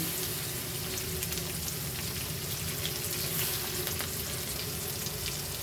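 Tomatoes fry in oil with ginger garlic paste and green chilli for egg fried rice, making a loud, continuous crackling hiss that holds steady throughout with no voices.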